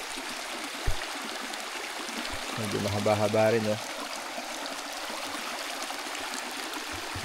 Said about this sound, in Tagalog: Ito yung last na ilog na tinawid.